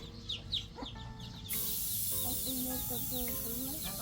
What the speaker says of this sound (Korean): 병아리 봐봐 닭 병아리